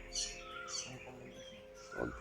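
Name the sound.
bird calling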